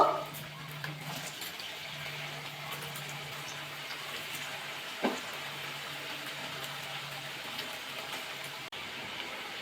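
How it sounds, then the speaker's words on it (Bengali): Gokul pitha, sweet dumplings, sizzle in hot oil in a pan, a steady soft frying hiss close by with a low background hum and a single brief clunk midway. "বাকি পিঠেগুলো ভাজা করে নেব"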